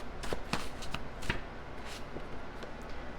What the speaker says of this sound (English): I'm going to just shuffle a few out and then we'll read them all at once.